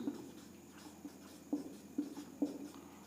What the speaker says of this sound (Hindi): हम लोग सेकेंडरी सफिक्स को लिखते हैं